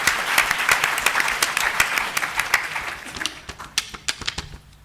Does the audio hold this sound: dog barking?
no